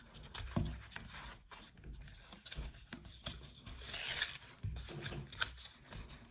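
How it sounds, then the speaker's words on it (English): Dr Squatch Irish Cream and Whiskey soap packaging is torn open by hand, giving soft, close crinkling, ripping and scraping sounds in short irregular bursts at low volume, with no talk. "we're gonna have to tear this one open"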